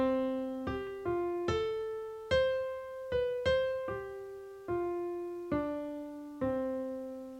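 Piano notes are played one at a time in a slow improvised line on close neighbouring keys in a five-finger pattern, each clear strike ringing and fading, soft and alone.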